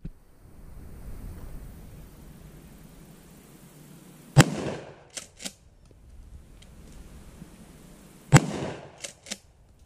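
Two sharp, loud 12-gauge shotgun blasts from a Maverick 88 at an outdoor gun range, about four seconds apart, each followed by quick mechanical clacks of the pump action, over a low ambient hum.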